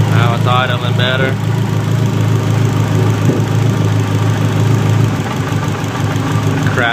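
A car engine idles roughly with an uneven, knocking pulse in a steady low drone, loud and close, with brief higher whirring near the start.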